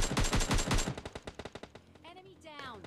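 Gunfire in the mobile battle-royale game PUBG Mobile Lite: a loud rapid burst of automatic shots, then slower single shots spaced out, with a brief rising and falling game effect at the end.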